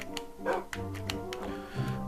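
A dog in the Minecraft video game gives several short yips and barks, fairly faint, spaced irregularly over a soft background.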